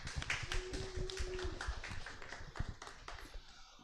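Quiet, scattered clapping from a small audience greeting panelists at a farmgate and cannabis industry talk, a few seconds of uneven hand claps fading out.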